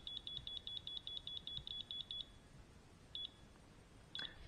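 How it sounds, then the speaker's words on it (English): A WaterMate smart irrigation control unit emits rapid, faint, high-pitched electronic beeps in a quick even train while connecting to Wi-Fi, followed after a pause by two more short isolated beeps. "it'll switch to a slow beep."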